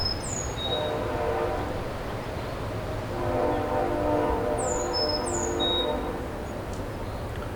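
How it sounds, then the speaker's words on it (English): A train rumbles past close by, its wheels clattering steadily while the horn sounds several times, with squealing tones above the roar. "We'll be right back after this train passes."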